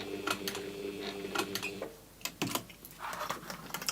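Sewing machine stitching a personalised purse or clutch, near mechanical whirring and clicking that comes in short runs separated by brief pauses.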